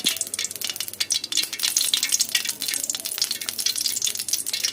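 Oil and masala frying in a pan for Telugu-style country chicken curry, a steady bright sizzle with crackling pops and occasional stirring scrapes, close and continuous with no talk.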